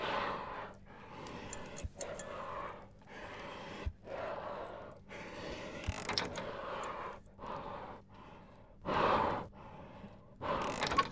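Hard, ragged breathing of an unseen creature lurking in a dark subway station in the game Anomaly Exit, a steady run of heavy breaths rising and falling, louder bursts near the end, alone without speech.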